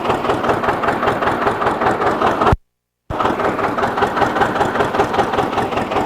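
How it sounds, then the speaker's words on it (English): Antique International diesel engine from a V220 truck running at an agricultural equipment show, a loud, rapid, even knocking chug that cuts out completely for half a second and then resumes at the same steady pace. "shut your gas motor off and you're on diesel and you're ready to work"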